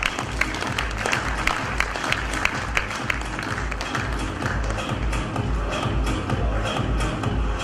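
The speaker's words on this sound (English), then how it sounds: "Ladies and gentlemen, a huge round of applause." An awards ceremony audience claps in a moderate, uneven round of applause, individual hand claps standing out over a soft crowd bed, steady throughout and not very loud.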